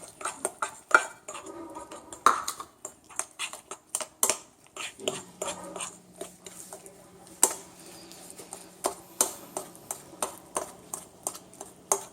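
A utensil clinks and scrapes against a bowl as oatmeal raisin cookie dough made with coconut oil is mixed, giving a run of irregular close taps and clatters with a low steady hum partway through.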